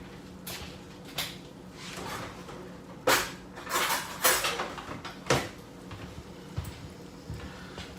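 A metal fork is picked up among dishes on a kitchen counter beside a plate of black pepper tofu, giving a handful of sharp, close clinks and knocks at irregular intervals.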